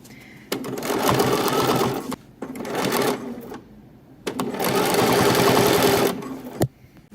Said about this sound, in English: Now that the edge stitching is done